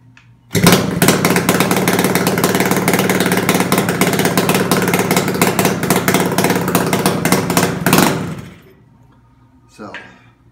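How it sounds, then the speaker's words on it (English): A Yamaha RD350 motorcycle engine runs with its mufflers and headers removed, roaring loud and rough for about eight seconds with a rapid, ragged exhaust beat before cutting off abruptly, followed by a brief faint noise. "You can hear it, the mufflers, the headers, everything's off, so it's loud as all get out"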